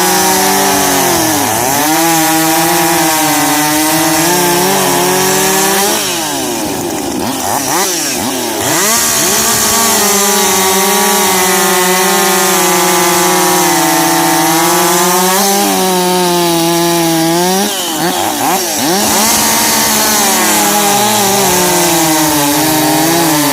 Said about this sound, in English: we'll see how each cuts and see which one comes out on top